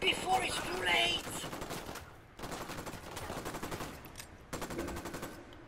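Rapid bursts of gunfire in the tactical shooter Ghost Recon Wildlands, loud dense volleys in several stretches with short gaps between, mixed with game sounds.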